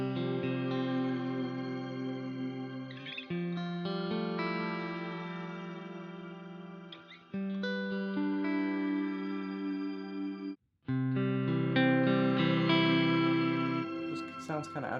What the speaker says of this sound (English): the next patch is the Shimmer setting